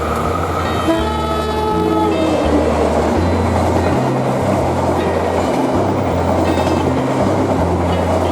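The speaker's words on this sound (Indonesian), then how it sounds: "Kereta api Prambanan Ekspres dari Kutoarjo ke Solo Balapan berpapasan dengan kereta api Logawa dari Jember ke Purwokerto." Two Indonesian passenger trains, the Prambanan Ekspres from Kutoarjo to Solo Balapan and the Logawa from Jember to Purwokerto, pass each other, with a loud continuous rumble and rail clatter and a long multi-tone horn blast near the start.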